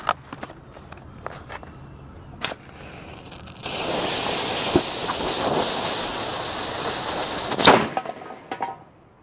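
A small cannon loaded with flash powder fires a steel .22 caliber projectile at a can: a single sharp report after a few faint clicks, followed by a long loud rushing hiss that stops abruptly with a final crack.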